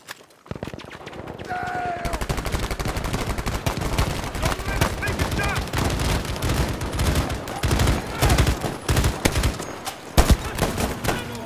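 A dense, sustained fusillade of rifle and machine gun fire rattles through a Pacific Front battle in Battlefield 5, near and far shots overlapping with footsteps and a brief voice early on.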